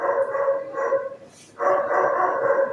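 A dog barks repeatedly in the background during a tutoring lesson, a steady run of medium-loud barks with a brief lull midway before the barking resumes.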